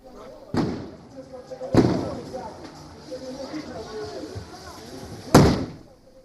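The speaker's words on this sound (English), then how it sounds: "Thousands of Kenyans taking to the streets in protest on Friday, with police firing tear gas as well." Street protest in Kenya over the Finance Act with police firing tear gas: three sharp, loud bangs or thuds stand out over a continuous rumble of crowd voices and street noise.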